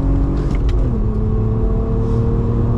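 Audi A3 3.2 Quattro 8P with a VR6 engine running loud and close, a deep steady drone with a couple of brief sharp pops early on.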